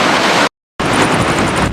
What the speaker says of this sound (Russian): Так вот бьет прям волны